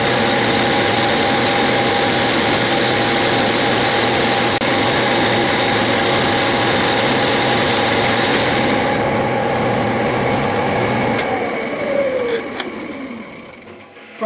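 A South Bend metal lathe runs through a finishing pass with a steady, loud mechanical hum and whine under a constant motor drone. Near the end the tone drops away as the machine winds down.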